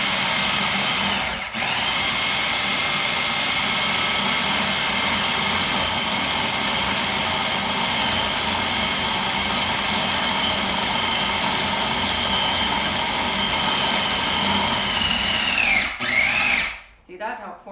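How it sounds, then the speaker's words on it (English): A food processor whirs loudly and steadily, mixing pie crust dough in a continuous motor drone that strains briefly near the end before cutting off. "we're going to let the food processor make up for my mistakes"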